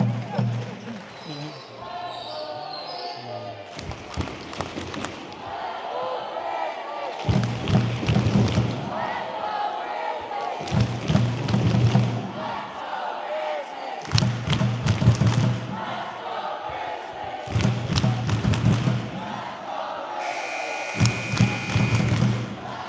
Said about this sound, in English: Crowd trying to start a wave here.